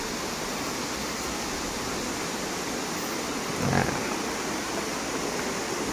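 Irenggolo waterfall in Kediri, a terraced cascade, gives a steady broadband rush of falling water, close and continuous, with a brief louder surge midway and no voices.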